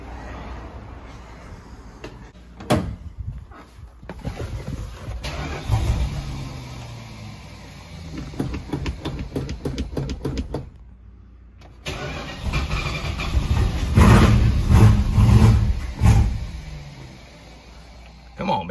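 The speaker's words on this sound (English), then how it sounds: "Let's fire this thing up, make sure she's ready to go." A Daytona car engine cranks several times, catches and starts, then runs with uneven revving and idling close by, with a few brief stretches of quiet between attempts.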